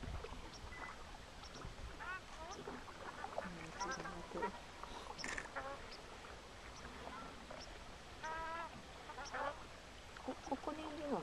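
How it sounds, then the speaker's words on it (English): Siberian ducks calling near a river at sunset during a canoe trip, with repeated quacking calls scattered through a busy background of birdsong and water, fairly close and continuous. "but we see a lot of Siberian ducks."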